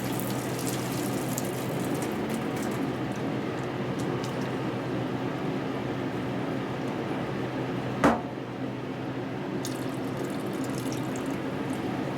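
Water drained off freshly boiled lasagne noodles in a home kitchen, a steady, fairly loud rush like a running tap into a sink, with one sharp metallic clank partway through and no talking.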